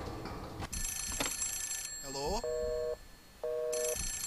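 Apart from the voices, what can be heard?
telephone ringing in the video game The Suffering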